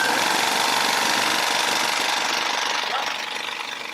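A Triumph serger's automatic needle threader runs with a loud, steady mechanical buzz and rattle that fills the whole stretch, easing off slightly toward the end.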